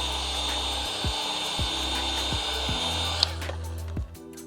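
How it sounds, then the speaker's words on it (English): A heat gun softens vinyl film on a Honda Civic 11th Gen headlight, its steady airy blowing whoosh running close and continuous, with a few soft knocks and handling sounds before it cuts out near the end. "Now all you have to do is take a little bit with a heat gun"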